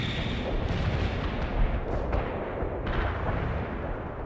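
Artillery strike in World in Conflict, a rumbling barrage of deep booms and explosions rolling continuously, heavy low-end thuds with a few sharper cracks, loud and dense without pause.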